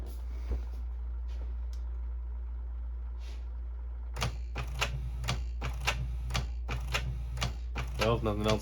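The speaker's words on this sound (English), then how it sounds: "Apparently it's trying to clean the printers." A Canon printer/scanner runs its print head cleaning cycle: a low steady motor hum, then a rapid series of mechanical clicks and clacks, with brief voices in the room.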